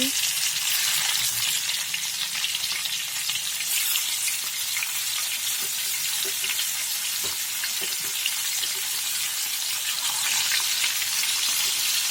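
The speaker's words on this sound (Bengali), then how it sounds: "চুলায় তাওয়া বসিয়ে দিয়েছি, এর মধ্যে দিয়ে দেব তেল। মাছ দিয়ে দিচ্ছি।" Fish frying in oil on a tawa gives a steady, loud sizzle that runs throughout, with occasional soft pops and crackles and no voices.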